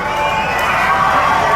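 A dense grandstand crowd cheers and shouts steadily at a monster truck show in Yorkton, Saskatchewan, a loud, continuous roar of many voices with no pauses.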